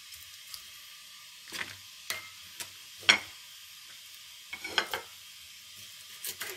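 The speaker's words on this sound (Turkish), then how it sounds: "Şimdi bunları doğruyorum." Knife chopping aloe vera leaves and a red onion on a board: a sparse series of separate sharp cuts, irregularly spaced and close by, with one louder chop in the middle.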